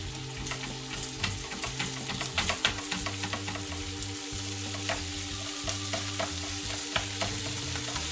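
Base risotto cooking in butter in a pan for bacon pea risotto, frying with a steady sizzle while a utensil stirs and scrapes repeatedly, close and moderately loud with no talking.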